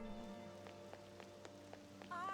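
Rain falls in the video game Persona 5 Royal as a faint, steady patter with scattered droplet ticks, set under a quiet musical background.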